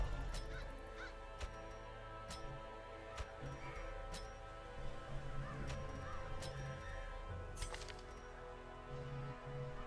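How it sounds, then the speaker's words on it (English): A crow cawing repeatedly in bursts against a steady background hum, loud and fairly close, with no one speaking. "You have a video of a bird yelling at you?"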